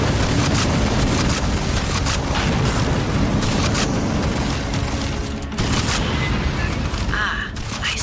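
Capacitors are shot and blown apart in Aliens Fireteam Elite, a dense barrage of gunfire and booming blasts that stays loud and continuous throughout, with a brief lull near the end.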